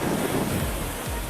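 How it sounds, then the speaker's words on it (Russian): Stormy sea at a nature reserve on the Berdyansk coast, with steady rough surf and heavy wind buffeting the microphone, continuous and loud throughout, nobody speaking. "Потому что море штормит."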